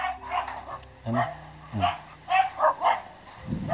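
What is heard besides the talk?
dog barking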